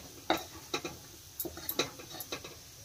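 Chopped tomatoes tumble into a pan of bitter gourd and chickpeas, giving several soft, close clacks and wet plops of a spoon against metal over a faint sizzle.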